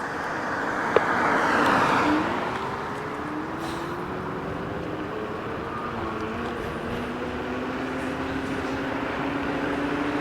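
An Arvala C-Pro electric scooter rides on its single motor in mode 1, a steady whine rising in pitch as it gathers speed over continuous road and wind rumble, with one sharp click near the start.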